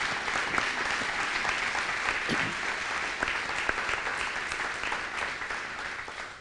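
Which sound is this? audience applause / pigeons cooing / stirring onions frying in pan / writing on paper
audience applause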